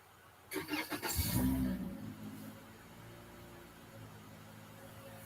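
A car engine starting, with a quick series of cranking pulses followed by the engine catching and then settling into a low, quiet idle that carries on steadily, faint and somewhat distant.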